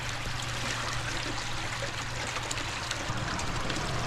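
Water poured into an off-grid water pump to prime it, a steady close trickling and gushing stream that runs continuously without talk.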